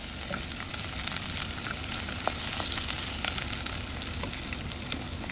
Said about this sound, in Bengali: আসলে আমি পেঁয়াজটা একটু বাদামি করে নিব